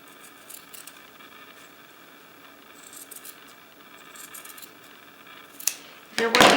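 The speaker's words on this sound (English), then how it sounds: "you're going to want to trim that seam allowance to reduce the bulk" Scissors snip a seam allowance on sewn slipper boot fabric, giving faint scattered clicks over quiet room noise, then sharper, louder cutting and rustling near the end.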